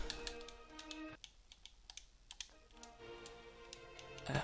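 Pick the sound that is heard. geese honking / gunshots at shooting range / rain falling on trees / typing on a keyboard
typing on a keyboard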